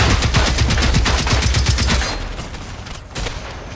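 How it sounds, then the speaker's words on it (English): Rapid automatic gunfire from enemy runner robots in the video game Generation Zero comes in dense, loud, rhythmic bursts for about two seconds, then drops to a quieter, rumbling background of distant shots. "Stop shooting at me, runners."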